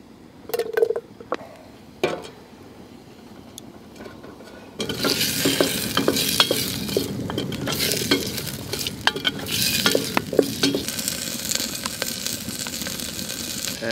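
Sliced peppers hit a hot pan and fry, a steady loud sizzle that lasts to the end, broken by scrapes and clinks of stirring. A few quieter clinks of cookware come before it starts.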